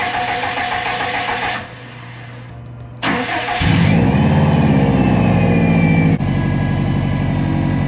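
A turbocharged 2009 Subaru WRX STI hatch with a Blouch turbo and Tial 44mm external wastegate cranks and fires up, then settles into a loud, steady, close-up idle with a rumbling low-end drone.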